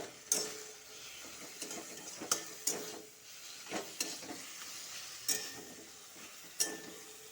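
Spices, salt and a little turmeric being stirred in a cooking pan, giving sparse, fairly quiet scraping and clinking taps spread across the stretch, with a soft sizzle underneath and no talking.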